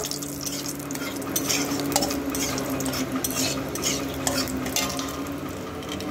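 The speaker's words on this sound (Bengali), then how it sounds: "একটু নাড়াচাড়া করে নেব।" Whole garam masala and fennel seeds sizzle in hot oil while a utensil stirs them in a metal pan, a steady close frying crackle with soft clinks and scrapes and no voices.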